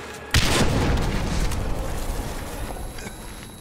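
A grenade detonates in the video game Medal of Honor Warfighter, one sudden heavy boom that breaks out abruptly and then rumbles and decays over the next few seconds amid battle noise.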